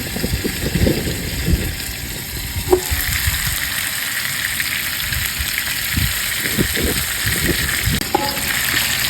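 Ribeye beef steak sizzles loudly and continuously on a grill, with close crackling, a few brief clicks and handling noises, and no talking.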